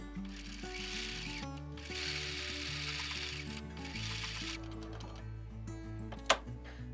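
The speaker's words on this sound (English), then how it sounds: "All right, so we've got our block over at our sewing machine." A sewing machine stitches a quilt block with a steady mechanical whir and a faint clatter, running continuously with small changes in pitch and one sharp click near the end, with no talking.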